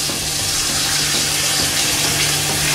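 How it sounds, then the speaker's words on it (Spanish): Water poured from a tap or jug into a pot of chickpea and salt cod stew on the stove, a loud, continuous rushing splash holding steady throughout without any talking. "le voy a añadir un poquito de agua"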